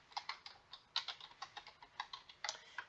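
Rapid typing on a computer keyboard while entering a web address, with a quick, uneven run of crisp close clicks and no talking.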